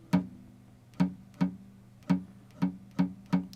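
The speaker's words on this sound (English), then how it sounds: "Even if I played string 6 right now, it would sound like this." Seven dull, muted plucks on the low sixth string of a guitar, each a short thump that dies away quickly, spaced unevenly and heard up close with no talking.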